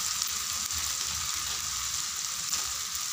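Ginger garlic paste and coriander powder fry in a pan for egg curry, a steady, close, even sizzle with no talk.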